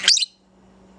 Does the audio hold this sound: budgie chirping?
yes